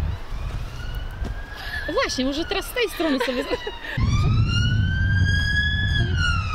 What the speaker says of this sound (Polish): On znowu policja jedzie.